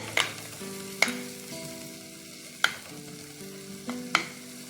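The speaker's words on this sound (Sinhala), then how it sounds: "මම මුලින්ම මේකට ඉඟුරු සුදු ලුණු සලාගත්ත ටික එකතු කරගන්නවා. අපි ඊළඟට තෙලේ වැදගමු." Ginger and garlic fry in oil in a clay pot with a soft, steady sizzle, broken by a few sharp clinks and scrapes of stirring against the pot.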